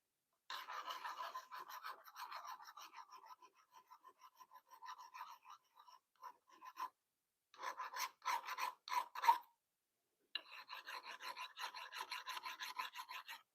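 A file rasps back and forth across a workpiece being sharpened into a chisel-like edge at a home workshop bench, with steady close strokes in bursts separated by short pauses.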